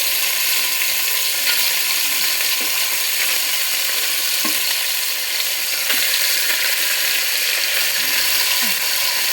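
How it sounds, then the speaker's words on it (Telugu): Oil sizzles steadily in a pan as food fries, a dense continuous hiss close at hand with faint occasional clicks and stirring sounds, no voices. "ఇగో ఇట్లా కొద్దిగా ఫ్రై చేసుకొని పక్క తీసి పెట్టుకోవాలి"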